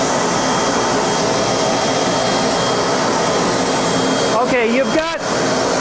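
A 4.6 horsepower regenerative blower with its input blocked off for load runs from a home-built transformer, a loud steady whine and rush close by, with someone speaking briefly over it near the end.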